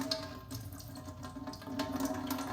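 Water drained from two food cans into a sink, a steady running splash and trickle that continues unbroken for a couple of seconds, close and moderately loud.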